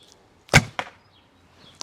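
A single arrow loosed from a Turkish bow of about 38 lb draw, one sharp snap of release followed by a fainter thud, then quiet with a small tick at the end. No voices.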